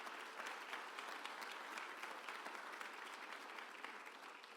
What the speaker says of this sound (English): Let's give Don a round of applause.